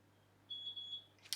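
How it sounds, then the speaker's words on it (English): A single steady electronic beep rings out for about half a second at low level, followed by a brief click. "Beeping."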